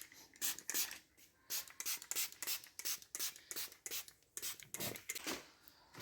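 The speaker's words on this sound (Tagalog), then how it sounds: "Punasan natin ng tissue." Tissue being rubbed across a car body surface after it was sprayed with alcohol to strip oil residue, heard as a close series of quick dry rubbing swipes in an irregular back-and-forth rhythm, fairly quiet.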